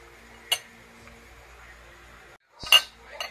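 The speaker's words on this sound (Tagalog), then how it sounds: "I-mix ko lang to guys ngayon." Bitter gourd, cucumber and mango salad with onion and ginger being mixed in a bowl, a few sparse clinks and scrapes of utensil against the bowl, quiet otherwise.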